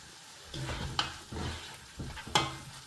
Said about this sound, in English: add your pancetta. This is pork. Stir and allow it to cook a bit.